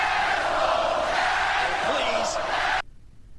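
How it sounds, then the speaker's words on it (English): A crowd sound effect of booing at a wrestler plays as a dense, loud, sustained roar of many voices that cuts off abruptly near the end, leaving near silence. "if I want to have like a crowd booing a guy"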